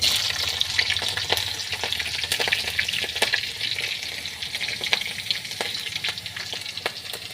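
Mustard seeds and green chillies fry in hot oil in a home kitchen pan, a steady close sizzle broken by frequent sharp pops and crackles throughout.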